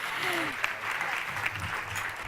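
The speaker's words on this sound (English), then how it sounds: "Let's give a huge WED round of applause for Erica, for Rhonda, for Kim, and for Caro" An audience at a veterans award ceremony breaks into sustained applause, a dense, even wash of clapping that carries through the whole moment.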